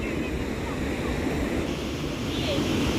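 Ocean waves crash and wash below the Anjarle lighthouse near Dapoli at sunset, a steady, rough surf roar mixed with wind across the microphone.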